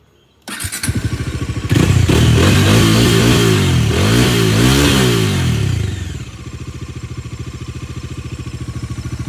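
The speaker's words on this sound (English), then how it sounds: "The exhaust note is amazing on this bike. I will just show you the exhaust note." A motorcycle engine starts up, then its exhaust note climbs into a loud, sustained rev for several seconds before dropping back to a steady, rhythmic idle, all close by and with no talking.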